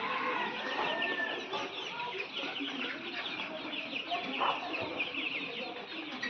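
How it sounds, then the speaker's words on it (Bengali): Color bird broiler chickens, about 43 days old, in a farm shed holding around 1200 birds: dense continuous clucking and chatter from many birds at once, close and fairly loud, with no clear talk. "আমার কালার বার্ডের মুরগির বয়স আজকে হচ্ছে 43 দিন"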